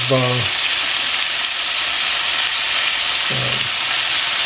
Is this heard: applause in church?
no